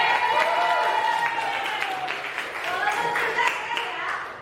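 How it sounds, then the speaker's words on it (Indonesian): Classroom group clapping for presenting students at an Indonesian teacher-training lesson, a moderate patter of hands under overlapping voices and chatter, fairly close and uneven in strength. "tepuk apresiasi lagi dong"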